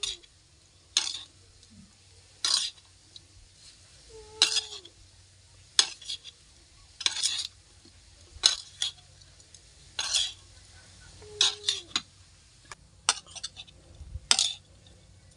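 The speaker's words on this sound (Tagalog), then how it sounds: "Haluin lang natin ng mabuti para manuot yung lasa ng ating sili at sibuyas." Pork liver stirred with chili and onion in a pan, giving repeated scraping and clinking strokes in a steady rhythm with soft sizzling underneath, close and moderately loud, no talk.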